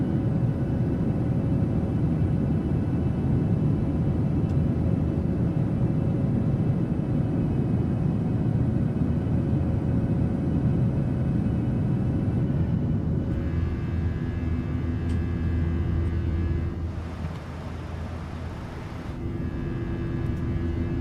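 A PMDG 737-800 in Microsoft Flight Simulator accelerates down the runway on a Transavia flight from Eindhoven, its engines a loud, steady low roar with broadband rush that shifts tone and dips briefly before returning.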